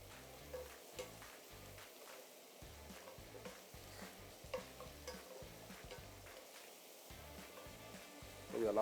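Ginger and garlic fry in a pot, quiet sizzling with repeated stirring scrapes and knocks at an uneven rhythm, close by, rising louder at the very end.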